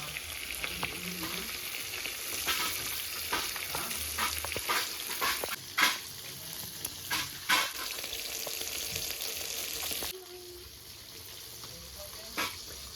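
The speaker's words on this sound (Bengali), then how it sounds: "ওদিকে মাছ ভাজা হচ্ছে," Fish pieces frying in oil, a steady moderate sizzle with intermittent louder pops and crackles that drops to a fainter hiss near the end.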